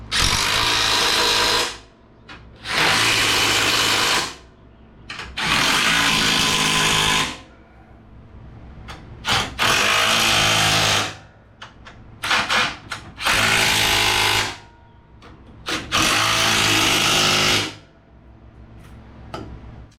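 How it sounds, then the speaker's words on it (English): A 21mm impact wrench tightens bumper nuts on a 2019-2023 Ford Ranger FX4 during installation of a Barricade HD bumper: six loud, rattling hammering bursts, each lasting one to two seconds, with short quiet gaps and faint clatter between them. "we'll go ahead and secure those nuts down with our 21mm impact"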